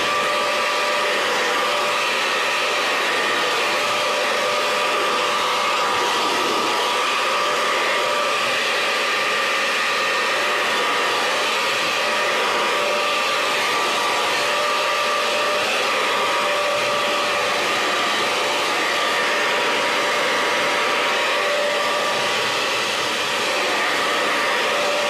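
A hair dryer blows steadily and loudly for the whole stretch, drying paint on a handmade coffee-corner craft sign, a continuous airy roar with no talking.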